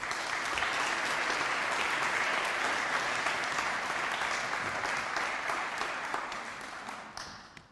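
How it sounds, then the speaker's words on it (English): Sustained audience applause in a conference hall at a management forum, steady dense clapping from a large crowd that holds loud for several seconds before tapering off at the end. "I'm glad you asked for an applause before I started"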